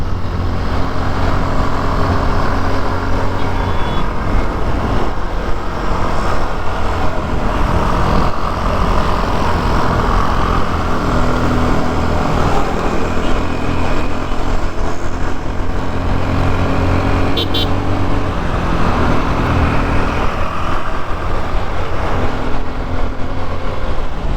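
A vehicle engine drones steadily on a mountain road through Sukeli pass in the Konkan region, a loud sustained rumble with gentle rises in pitch as it climbs and revs, mixed with road and wind noise.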